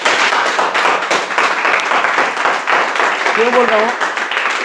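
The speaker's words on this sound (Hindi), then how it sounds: "अब मैं जिसके बारे में चर्चा करने वाला हूं उसके लिए एक बार जोरदार शानदार ताली बजा दो।" Enthusiastic audience clapping at an RCM motivational seminar, dense and continuous throughout, with a speaker's voice briefly heard over it.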